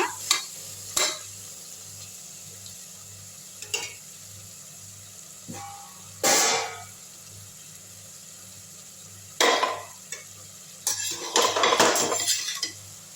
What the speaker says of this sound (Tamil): இப்போது இந்த கடாயிலேருந்து எடுத்து அப்படியே இந்த வதக்கின காயை அப்படியே போட்டுடலாம்